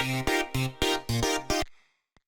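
A nu disco synth preset's first layer with high resonance plays six short, loud rhythmic chord stabs with bright, buzzy harmonics, then decays into a brief tail and silence.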